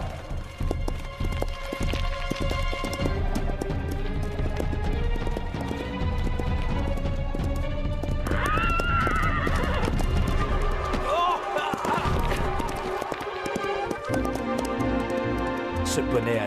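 A cartoon pony gallops with steady clip-clopping hooves and lets out loud, repeated whinnies, mixed with dense music and effects.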